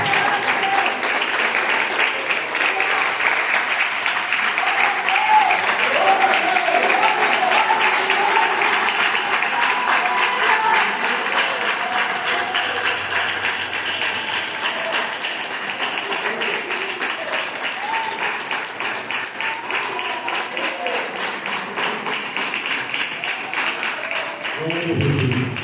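A church congregation claps hands in praise during a service, sustained loud rhythmic clapping from a large crowd over about twenty-five seconds, with faint voices mixed in.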